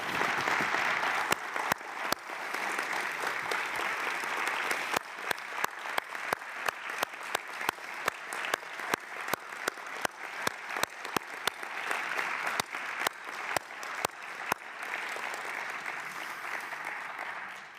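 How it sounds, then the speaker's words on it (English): A conference audience gives a long round of applause, many hands clapping steadily with sharper individual claps standing out, lasting nearly eighteen seconds in a large hall. "We want to thank you with a big round of applause"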